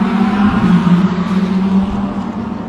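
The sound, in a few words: roar of V8 race cars heading down towards Potters Pass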